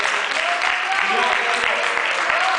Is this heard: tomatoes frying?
no